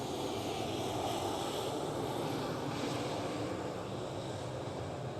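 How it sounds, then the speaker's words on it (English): A KLM Cityhopper Embraer E190 jet at Amsterdam Schiphol gives off a continuous broad engine roar, steady and fairly loud over five seconds, with wind-like hiss and no voices. "KLM City Hopper E190."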